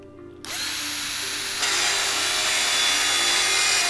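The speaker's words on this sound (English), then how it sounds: "Drill your corn into your mouth." A drill whirs into corn in the Jazzpunk video game, starting abruptly after a brief quiet moment and then running as a steady, loud, continuous grinding buzz that intensifies partway through.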